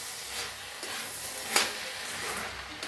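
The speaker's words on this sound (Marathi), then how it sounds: "सगळं हलवून घेऊया" Sprouts vegetable curry sizzles gently in a pan as it is stirred, a low continuous hiss with a few soft scrapes and one brief sharper knock midway.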